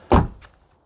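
A vehicle's rear door shuts with a single close, heavy thunk followed by a faint rattle, with no talk.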